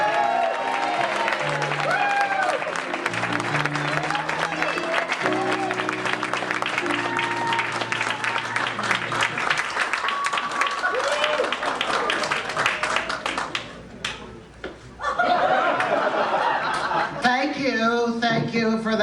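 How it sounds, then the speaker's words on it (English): Audience applause and cheering fill a charity show stage as a performer is welcomed, a dense sustained clapping with laughter and voices mixed in, briefly thinning near the end before surging again. "Thank you for that really rip-roaring, rousing round of applause."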